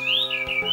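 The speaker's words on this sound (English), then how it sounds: "Bird call!" A bird call from the video game Star Fox Adventures: a single bright, sliding whistle that rises and then dips, sustained for under a second over a steady tonal game backdrop, close and clear.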